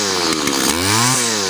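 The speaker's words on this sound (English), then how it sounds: "That's the FS80R Professional Series String Trimmer." A Stihl FS80R professional string trimmer's two-stroke engine revs hard close by, with a loud buzzing whine that rises and falls in pitch as the throttle is squeezed and eased, and nobody talks over it.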